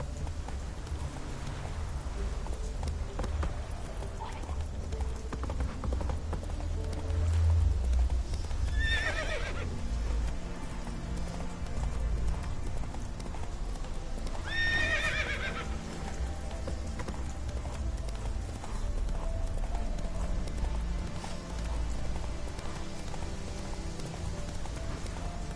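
Roach, the horse in The Witcher 3, with steady galloping hoofbeats throughout, two whinnies breaking in along the way, and a low rain-like ambience underneath.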